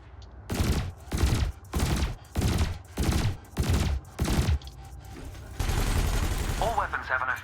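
A burst laser and a multi-cannon fire at canisters in Elite Dangerous: seven loud, evenly spaced bursts of rapid shots, followed by a sustained noisy blast that tails off into a short electronic chirp.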